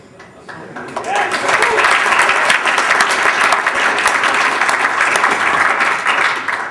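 Audience applause at a liberty forum talk in New Hampshire, a crowd breaking into loud, sustained clapping that swells within the first second and carries on steadily to the end, with a voice speaking under it.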